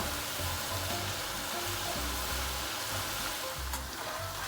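Banana, sweet potato and potato chips frying in hot oil, a steady close hiss and crackle of sizzling that holds without a break, no talking.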